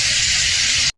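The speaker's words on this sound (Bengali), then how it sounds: "কপি আর আলুটা ভালো করে ভেজে নেব।" Cauliflower and potato frying in a pan, giving a steady loud sizzling hiss that holds evenly and then cuts off abruptly.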